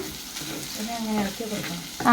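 Okra stir-frying in a pan on low heat, a steady close sizzle with soft scraping as it is stirred, and a sharper clatter near the end.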